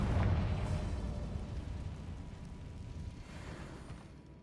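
A Confringo explosion spell bursts in Hogwarts Legacy as a low, rumbling blast that starts strongest and slowly fades over several seconds, fairly quiet overall and with no voices.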